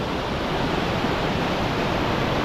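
A waterfall in the bush roars as a continuous, dense rush of falling water, loud and close, with no other sounds.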